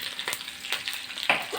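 Sesame seeds sizzle and pop in hot oil for a white dhokla tempering, a soft steady hiss broken by a few sharp crackles and one louder pop near the end.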